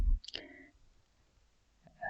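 A short, sharp mouse click on a Windows 11 create button sounds near the start, a second fainter click comes near the end, and quiet background lies between them.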